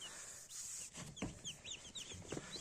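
Newly hatched chicks, still damp, peep in quick, high, repeated chirps close by, with soft clucking and rustling underneath.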